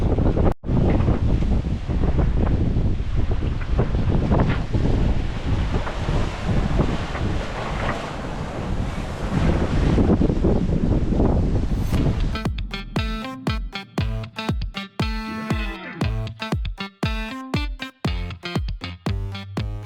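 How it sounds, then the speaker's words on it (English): Strong wind roars across the microphone aboard a sailboat crossing from Tahiti to Tonga in 12 to 15 foot waves after 30 hours of rough weather. The dense rushing lasts about twelve seconds, then gives way to choppy, broken tonal sounds. "12 to 15 foot waves. They say it's going to relax tonight a little bit, but we've had it for 30 hours. Pretty rough."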